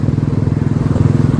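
A Royal Enfield Bullet motorcycle thumps along on the road with its rapid, even single-cylinder beat, loud and close throughout.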